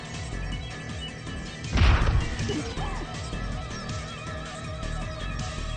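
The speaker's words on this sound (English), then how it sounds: "Her right fist connected hard with Kaguri's stomach. Then her left arm smashed Kaguri's head to the side." A punch smash sound effect from the visual novel Steins;Gate 0 lands as one loud, sharp crashing impact midway through a fight scene, over steady background music.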